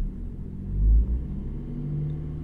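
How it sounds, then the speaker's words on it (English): A BMW E60 with the M57 diesel engine rumbles at idle, then swells briefly in a short rev before settling back to a steady low drone, close and fairly loud. "So if I were to rev the car now"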